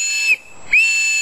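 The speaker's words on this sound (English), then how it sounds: "just a simple aluminum rape whistle" A cheap aluminum survival whistle is blown outdoors in two sharp, loud, shrill blasts separated by a brief breath gap.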